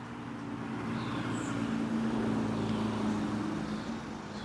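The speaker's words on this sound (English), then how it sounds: "Got a car coming, driving by on my left." A car passes by on the left with a steady, moderately faint engine and tire hum that swells gently toward the middle and eases off again, heard outdoors without talking.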